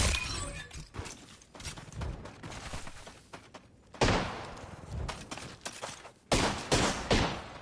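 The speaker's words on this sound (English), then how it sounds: "Taking fire." Gunfire in a video game cracks in irregular bursts and sharp single shots, loud and close, mixed with shattering impacts.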